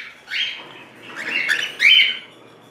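An albino breeding pair of cage birds in a nest gives a few close, short squawks and chirps, rising in intensity toward the end.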